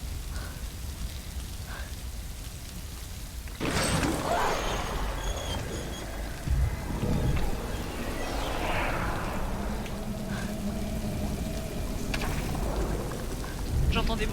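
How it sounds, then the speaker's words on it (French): Steady rain hisses throughout in the video game Beyond: Two Souls, growing heavier after a few seconds, with low rumbling and mechanical sounds mixed in. "Il pleut."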